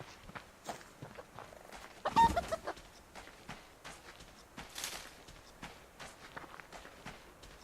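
In the video game Subsistence, a chicken clucks among steady running footsteps on the ground, with a louder scuffle near the middle and no speech.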